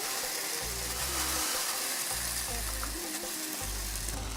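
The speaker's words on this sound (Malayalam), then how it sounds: "ഞാനൊരു പാൻ ദേ അടുപ്പത്ത് വെച്ച് ചൂടായി ഇരിപ്പുണ്ട് അതിലേക്ക് ഞാൻ ഈ മിക്സ് ഈ നമ്മളെ ബീട്രൂട്ട് ഇട്ട് കൊടുക്കാം" Grated beetroot mix fries in a hot pan for beetroot pachadi, giving a steady, close, dense sizzle with soft low stirring thumps throughout and no talk.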